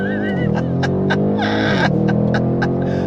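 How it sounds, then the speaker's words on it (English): A 2023 Audi RS7 in RS mode launches hard with Quattro all-wheel drive, its engine note climbing in rising sweeps broken by quick 8-speed gear changes, loud and close with a brief pause mid-run. "I have it in RS mode, and I want to showcase the launch control for you"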